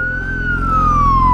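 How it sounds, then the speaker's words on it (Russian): An emergency vehicle siren wails steadily and loud in city traffic in Riga, its pitch sliding slowly downward over a low rumble of engines. "Я слышу где-то мигалки, но не могу понять, где они."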